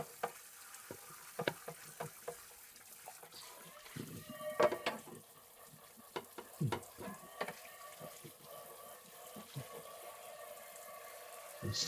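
Scrubbing a hot pan after cooking salmon, with water and a small scrubber: irregular scraping and clattering strokes over a steady sizzle of water on the hot metal, close and fairly loud, with no talk.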